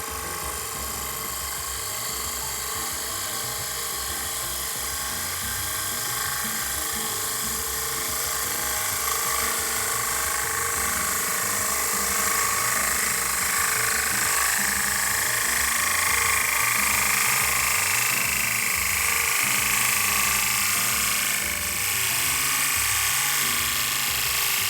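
A bowl gouge takes a slow finish cut on a large bowl spinning on a woodturning lathe, a loud, continuous hissing whir of tool on wood over the steady hum of the machine, swelling slightly as the cut goes on.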